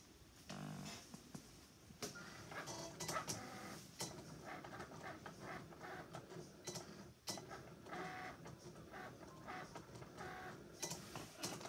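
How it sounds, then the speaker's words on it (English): A Cricut cutting machine runs nearby with a quiet mechanical whirring and irregular clicks and buzzing motor movements, steady throughout without talk. "now I'm going to go ahead and press the Cricut button because it's ready"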